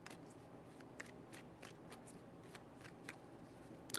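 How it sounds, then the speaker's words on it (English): Tarot cards being shuffled by hand, a quick series of soft, crisp riffling flicks repeating in an irregular rhythm, close and quiet with no talking. "4 shuffles."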